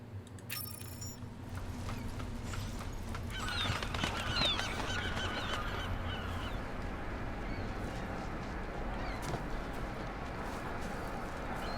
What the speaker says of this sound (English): Oh wow, look at that. All these birds.